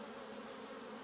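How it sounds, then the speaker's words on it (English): Honey bees buzz around a hive as a dense, continuous, faint hum that stays steady throughout, with no voices. "you see all the bees flying out and it all looks very random and disorganized"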